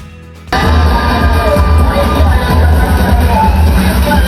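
A mall crowd at a dance performance with backup dancers at Mall of Asia bursts into loud, sustained cheering and shouting over thumping music, starting abruptly and staying dense throughout.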